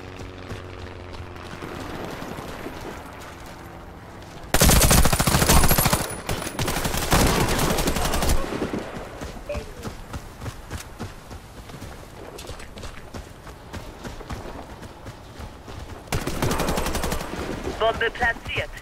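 Machine gun fire in the shooter game Warface: loud automatic bursts around 5 and 16 seconds, with quieter in-game gunfire and effects in between.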